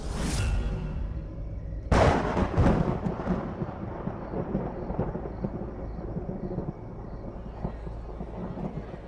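A loud crack of thunder breaks out, followed by a long deep rumble that rolls on and slowly fades, with a steady stormy background.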